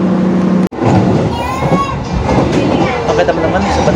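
KA Bengawan passenger train, a budget Jakarta–Solo service, rolling along the rails near Klaten: a loud, steady rumble with rhythmic wheel clatter heard from inside the carriage, with a brief dropout early on.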